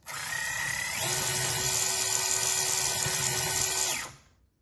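A steady high-pitched mechanical whine and grinding buzz from the steering knuckles of an SCX24 RC crawler runs for a few seconds, then cuts off, the small motor drivetrain spinning fast.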